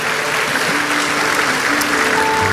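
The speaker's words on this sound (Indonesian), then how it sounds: "Berikan tepuk tangan kita untuk Tuhan kita." Congregation applause at a Christmas church service, loud, steady clapping that fills the whole stretch, with a faint tone or two from instruments underneath.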